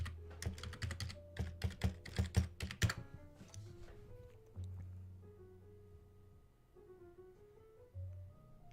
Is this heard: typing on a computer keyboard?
yes